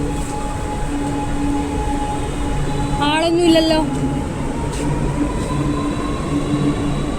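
A train hums steadily at a railway stop, with a brief squealing, whistling wheel or brake sound in the middle, and a person speaks over the steady rumble.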